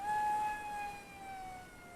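An Eachine Mobula Wing FW650 RC plane with a 650mm wingspan flies at half throttle, its high-pitched motor whine drifting slightly downward in pitch as it passes, faint and alone for about two seconds.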